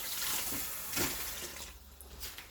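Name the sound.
rinsing ingredients under running water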